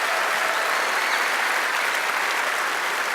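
A PAX West Witcher panel audience claps in a dense, continuous roar of applause that stays even and fairly distant for the whole stretch, with a few faint cheers woven in.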